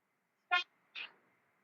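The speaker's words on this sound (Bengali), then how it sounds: "আজকে পুরো রাস্তার মধ্যে আমি হর্ন দিতে দিতে যাবো" Bus horn in the driving game Bus Simulator Indonesia, two short honks about half a second apart, clean and alone over a faint background hum.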